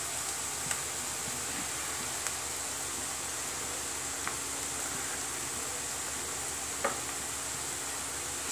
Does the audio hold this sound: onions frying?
yes